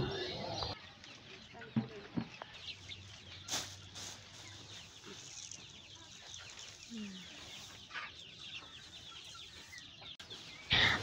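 Domestic desi chickens on a farm give scattered, fairly faint clucks and brief calls, with some quiet human talk and a few sharp knocks around them.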